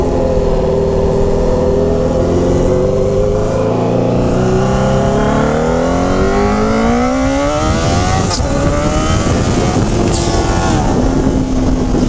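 A turbocharged Yamaha XJ6 motorcycle is tuned for a half-mile run at an air base in Santos, its engine loud and close as it revs up and down in repeated rising and falling sweeps, with no talking.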